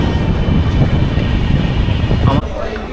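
A train pulling out of Dakshineswar station from Kolkata on the way to Varanasi, with a steady loud rumble of wheels and carriage noise that drops off suddenly near the end.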